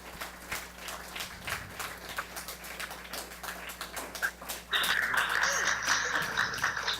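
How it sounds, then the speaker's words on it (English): Audience applause breaks out at a talk on trust, a dense wash of clapping swelling suddenly and holding steady at fairly close range, with scattered claps and murmur before it. "Please give her a big hand of applause"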